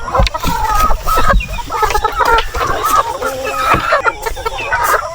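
Heritage native chickens cluck busily up close around a farm coop, with overlapping choppy calls and scattered sharp squawks running throughout, and a voice faintly in the mix.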